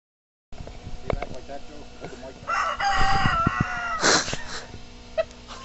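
A rooster crows loudly at Keepsake Farm, an egg and dairy chicken farm in Upper Nazareth Township, with clucking and agitated calls from nearby fowl under people talking.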